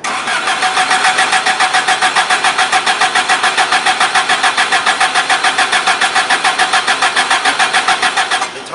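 An engine cranks steadily without catching, the starter churning in a fast, even rhythm loud and close for several seconds, with the trigger offset set wrong.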